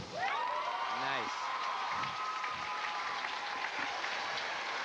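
Spectators applauding and cheering after a dive at a 1995 girls' state high school diving meet, with a steady wash of clapping and a whistle rising over it, a voice briefly audible too.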